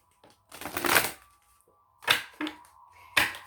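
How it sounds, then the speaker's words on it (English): Oracle cards being shuffled in a few quick riffling bursts, one long burst followed by shorter ones, close and crisp with pauses between. "I'll give it one more shuffle."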